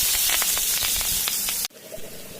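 Onions drop into hot oil already spluttering with nigella seeds, giving a loud, dense, steady sizzle. It cuts off abruptly, leaving a quieter hiss of frying.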